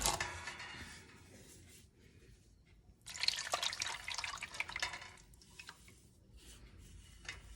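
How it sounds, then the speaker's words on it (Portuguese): Liquid colored clay slip dripping and pouring from a plaster mold set on a grate: a faint splashing trickle that swells into a steadier stream of drips, then thins to scattered drops. "a barbotina, o engobe colorido, vai escorrer para o fundo da forma"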